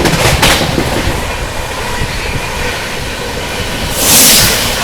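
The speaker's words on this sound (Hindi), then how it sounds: "दोस्तों, सामने से आ रही है नई दिल्ली से चलकर प्रयागराज की ओर जाने वाली नई दिल्ली प्रयागराज हमसफर एक्सप्रेस" The New Delhi–Prayagraj Humsafar Express runs past at close range, a loud, steady rumble with rhythmic clickety-clack of wheels over rail joints, swelling into a hiss of wind near the end.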